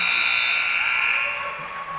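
A high school girls' basketball game buzzer sounds at the end of the half in a gym, one long, loud, steady electronic tone that holds for about a second and a half, then fades under crowd noise.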